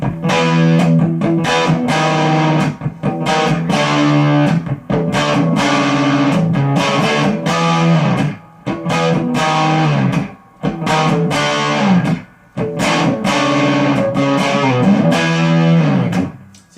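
A 1974 Music Man guitar amp pushed into gritty, 80s-style rock distortion, loud and continuous with chugging riffs and chords broken by short gaps near the end.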